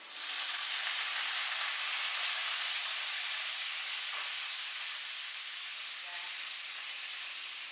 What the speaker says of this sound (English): I'm going to pour in the lemon juice as well. That might sizzle up a bit.